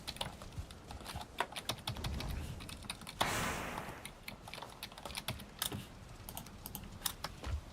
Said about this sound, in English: the keyboard sounds a bit less defined